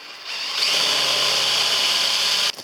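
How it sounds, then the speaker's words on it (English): A power drill whirs loudly and steadily for a couple of seconds as it bores a hole, then abruptly stops. "I'm just going to drill a hole in here."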